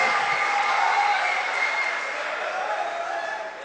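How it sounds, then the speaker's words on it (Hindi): Steady, dense applause from an audience at a Hindi poetry recital, a continuous close wash of clapping that holds for several seconds and eases slightly toward the end. "कस के तालियां बजाइए, हाजमा ठीक रहता है।"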